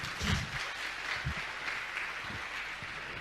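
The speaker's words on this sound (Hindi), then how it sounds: "मैं चाहूंगा आप जोरदार ताली बजाकर इनका" An audience applauds at a religious discourse gathering, a diffuse continuous clapping wash that holds steady throughout without voices.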